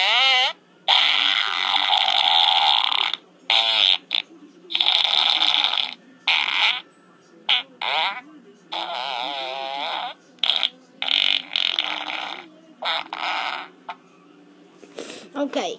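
Farting sound effects are played in rapid succession, a dense run of short, close, raspy bursts broken by quick gaps, some with wobbling pitch.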